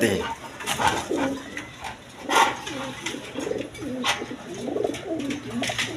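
Red Jacobin and Maltese pigeons cooing close by, soft repeated throaty coos and murmurs rising and falling under bursts of faint background noise and some talk.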